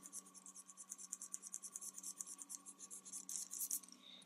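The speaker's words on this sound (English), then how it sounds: "And then I'm going to go over to the eraser." A Coleto pen eraser rubs back and forth on paper in quick, quiet strokes, a soft rhythmic scratching that continues steadily at close range.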